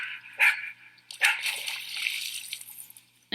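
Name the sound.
beaver slapping the water with its tail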